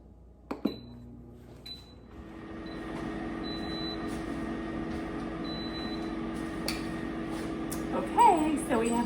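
An air fryer set to bake for a stromboli: a few button beeps and clicks, then a steady fan whir and hum that runs continuously, with a short extra rattle near the end.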